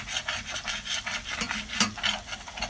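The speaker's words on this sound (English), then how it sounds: "I'm just kind of scraping some of this brown off" A utensil scraping browned bits off the bottom of a pot while cooking, a rapid rhythmic rasping, close and fairly quiet, repeated strokes with one stronger scrape near the middle, no talking.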